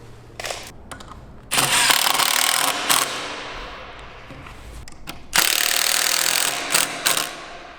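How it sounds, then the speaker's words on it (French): A wooden board is screwed in place during chalet assembly, with two long bursts of a power driver whirring loudly up close, separated by quieter handling clicks and knocks. "Et une fois qu'il est centré, il faut venir le visser"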